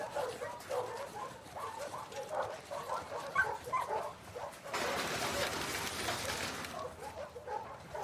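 Dog sounds from The Last of Us Part II, with soft yips and whimpers up close, followed by a burst of excited panting or rustling. No one speaks.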